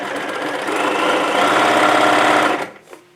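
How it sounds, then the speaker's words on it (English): A sewing machine stitches a seam straight across the fabric, a loud, close, rapid run of even stitching that winds down and stops near the end. "go ahead and stitch all the way across"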